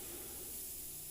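An airbrush sprays heavily thinned-down paint in a soft, steady hiss, faint and continuous for about a second with no voices.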